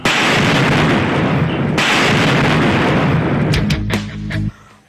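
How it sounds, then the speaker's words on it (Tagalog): A sustained loud blast roar from an explosive device detonated in a police bomb drill in Zamboanga del Sur rumbles and crackles for several seconds, followed by a few sharp bangs and pops before fading. "Halos yumanig sa lakas ng pagsabog ng explosive device sa isinagawang bomb drill ng mga otoridad"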